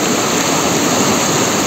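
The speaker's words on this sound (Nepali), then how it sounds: "कलकल बगेको पानी" The Khimti river rushes past in a loud, steady broadband roar of flowing water, close to the microphone and unbroken by any voices.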